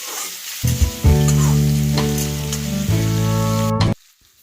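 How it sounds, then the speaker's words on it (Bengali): Jackfruit and potatoes fry in a pan with a loud, close, continuous sizzle, broken by stirring scrapes, then cut off abruptly. "তো এইভাবে আলুর সঙ্গে এঁচোড়টাও ভেজে"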